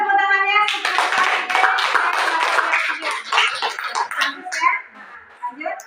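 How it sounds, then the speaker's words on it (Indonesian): A classroom of students claps for a classmate's speech with a burst of close, uneven hand claps that thins out over several seconds, along with a few children's voices and shuffling. "Kasih tepuk tangannya."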